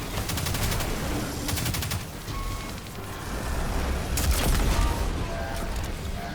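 In the Destiny video game, a boss fires at the player, producing dense, continuous bursts of gunfire and crackling impacts. The shots are loud and sustained throughout, with a heavier cluster of blasts near the end.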